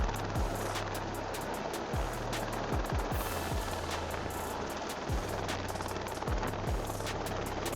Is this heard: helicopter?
yes